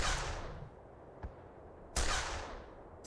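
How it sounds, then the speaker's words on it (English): Gunfire in the Black Mesa game, three sharp reports with ringing decay, one near the start, a fainter one, then a loud pair closing out, no talk. "Who is shooting?"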